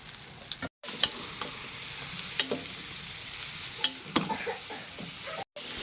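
Pork meat sizzles steadily in a hot pan for a Filipino pork ginataan, a dense continuous fry broken by sharp clicks of a utensil against the pan and two brief dropouts, with no talking.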